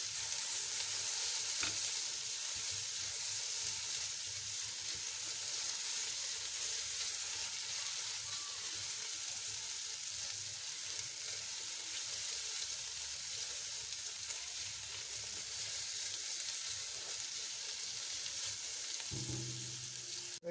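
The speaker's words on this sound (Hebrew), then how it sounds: "כשהבצל מתחיל להזיב אני מוסיף 4 שיני שום פרוסות דק. אני מערבב יחד" Thinly sliced garlic and onion frying in a pan as they are stirred together, a continuous soft sizzle lasting about twenty seconds, near and steady with only faint stirring scrapes and no talking.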